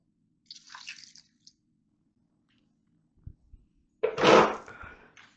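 Water is poured into a Ninja Foodi pot holding potatoes, a brief splash after some faint handling noises, then a louder, fuller pour near the end.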